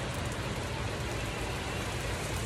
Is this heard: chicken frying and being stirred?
no